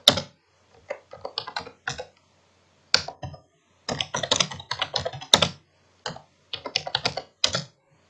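Computer keyboard typing during data entry in MYOB accounting software, including Tab key presses, heard as close, crisp clicks in short bursts and quick runs with brief silent pauses between them.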